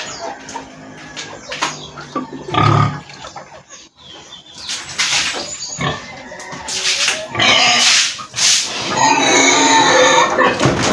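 Pigs on a farm, grunting and squealing in close, irregular bursts, with splashing water from the pen floor being wet down and a few bird calls in the background.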